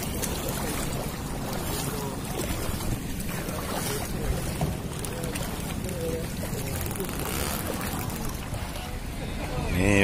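A 20-ton wooden fishing boat motors across open sea, its engine drone blending with steady wind buffeting and water rush, while people talk over the continuous noise.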